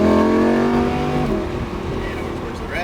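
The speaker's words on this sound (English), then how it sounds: "Let's roll on that gas" A race car accelerates on a track as its engine note climbs in pitch, then shifts and settles into a lower, steady roar, loud and close throughout.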